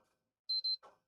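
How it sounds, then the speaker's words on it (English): A PlayStation 3 console gives a quick pair of short, clear electronic beeps on boot, close and crisp in an otherwise quiet room, followed by a soft brief click. "And double beep."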